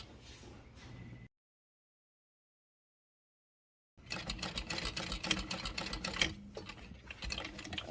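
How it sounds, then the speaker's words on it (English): A sewing machine stitches fabric with a backstitch. Two close, steady runs of whirring stitching are separated by a few seconds of silence, with no talking. "I'm gonna backstitch at the beginning, just a couple, and we'll stitch all the way down"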